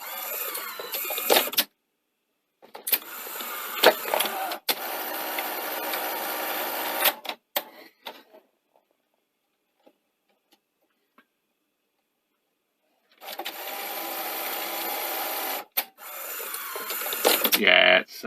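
A Sony SL-C30 Betamax mechanism, freshly greased, runs with a steady mechanical whirring and rubbing, in two long stretches separated by several seconds of near silence, with brief clicks at the transitions.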